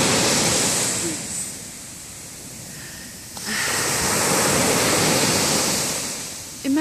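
Sea waves roll in as a broad, steady wash of surf that swells, eases into a softer hiss, then surges loud again, with no talking over it.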